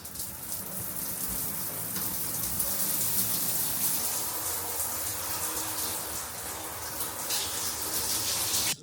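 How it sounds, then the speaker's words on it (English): A rainfall shower in a hotel bathroom at a Manchester Airport hotel runs steadily, a loud continuous hiss of water falling close by, unbroken for the whole stretch. "Time to test out the rainfall shower."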